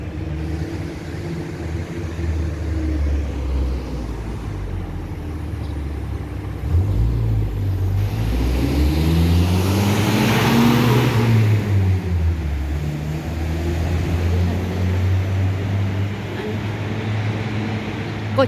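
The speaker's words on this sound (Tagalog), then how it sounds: "Kotse." A car passes on the road outside a bus stop, its engine rumble rising in a smooth swell and then fading over steady traffic noise. No one talks.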